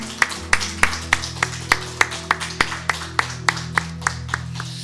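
A congregation at a Sunday-morning church service claps in praise, about sixteen crisp, evenly spaced unison claps over a sustained organ or keyboard chord, moderately loud and without talk.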